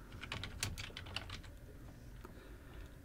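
Quiet keyboard typing on a computer while writing HTML code, a rapid cluster of soft key clicks at the start that thins into a few scattered taps, heard alone.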